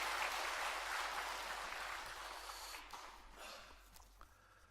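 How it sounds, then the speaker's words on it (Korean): A church congregation applauds after a worship service performance, a soft diffuse clapping that begins moderately loud and gradually fades away over several seconds, heard from some distance in the hall. "우리 수고하신 분들께 우리 박수로 하겠습니다."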